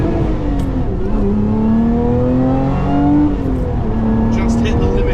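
A Lotus Emira engine revving hard in first gear, its tone rising quickly and climbing to the rev limiter, then holding and falling, loud inside the cabin with someone talking over it.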